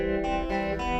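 An electric guitar run through the Nembrini Doubler plugin on its default setting gives a thick, widened tone, with a few chord hits ringing closely over about a second and no voice.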